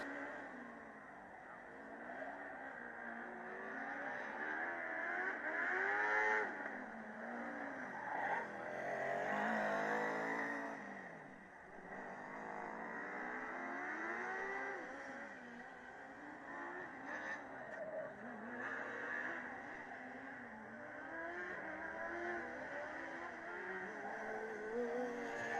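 A Formula Student race car on its final endurance lap at Formula Student Germany 2015, its high-pitched engine whine rising and falling steadily across the clip at moderate distance, with faint commentary-like voices in the background.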